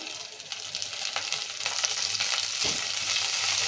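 Onions, green chillies, curry leaves, mint and coriander sauté in oil for tomato rasam, a close, steady hiss and crackle that swells slightly toward the end, with a few soft stirring scrapes.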